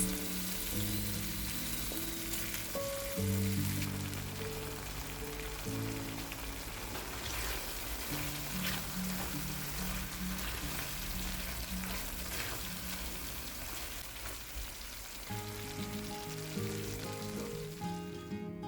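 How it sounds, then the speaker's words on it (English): Meat with pepper, onion and sauce simmers and sizzles in a pan, a steady soft crackling bubbling that runs continuously at a moderate level, with quiet background music throughout. "Simmer for 2 minutes."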